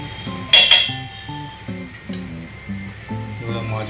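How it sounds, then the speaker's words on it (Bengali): Marinade for hilsa fish is mixed with raw oil in a bowl, giving a couple of sharp clinks and faint scraping that sit under steady background music and a speaking voice. "দেখতে পাচ্ছেন ভালো করে মিশিয়ে নেওয়া হচ্ছে।"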